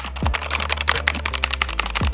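Typing on an SK61 60% mechanical keyboard, with rapid, loud, close-up keystroke clicks falling in an uneven steady rhythm and nothing else heard.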